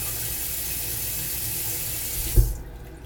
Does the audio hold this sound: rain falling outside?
no